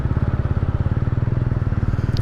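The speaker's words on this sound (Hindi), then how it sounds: "अब मैं हो जाता हूँ एकदम शांत, और फिर देखना, आप सुनना बाइक का साउंड कितना प्यारा आता है।" A TVS Ronin 225 motorcycle engine idles close by with a steady, rapid low thump, an even pulsing rhythm that holds unchanged for the whole stretch with no talking.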